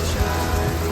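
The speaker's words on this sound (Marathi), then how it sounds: "अरे पाऊस पडतोय म्हणून म्हटलं." Rain falls at Harishchandragad fort as a brief, steady broadband wash of drops, fairly loud and even, with no voices.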